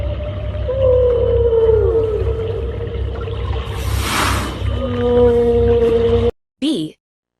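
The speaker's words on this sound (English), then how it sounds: "Whale." A whale gives long, loud, tonal moans that rise and fall in pitch, one after another, with a breathy whoosh in the middle and a short final call after a brief silence.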